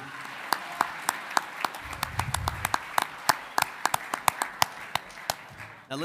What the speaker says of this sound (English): Another round of applause for the individuals that I sit alongside currently right now, our members of the Board of Education